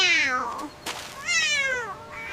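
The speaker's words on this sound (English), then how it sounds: "Meow." A sick kitten meows repeatedly, three or four high, wavering cries close to the listener with a soft thump between them and no talking.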